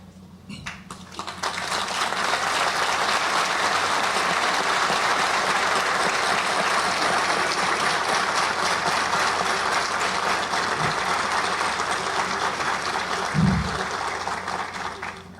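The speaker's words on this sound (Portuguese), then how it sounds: "a salva de palmas" A loud, sustained round of applause at a cooperative gathering honouring guests, swelling after a second and holding as a dense, even wash of many hands, with a few louder claps and a thump near the end.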